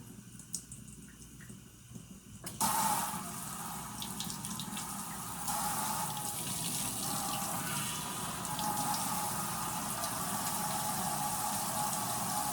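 Kitchen sink tap switched on after a quiet start, running lukewarm water for pizza dough in a steady close splashing stream that continues to the end.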